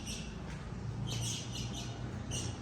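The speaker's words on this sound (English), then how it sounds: "There's a bird in here." A few faint, high chirps from a small bird trapped inside a parking garage repeat at intervals over a steady low rumble of indoor background noise.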